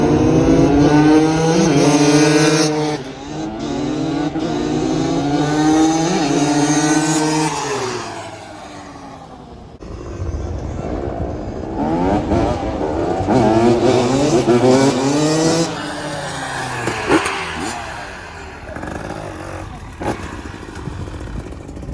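Two dirt bikes, a Yamaha YZ 250 two-stroke and a KTM 300, race past up close, their loud engines rising and falling through repeated revving passes with no talk.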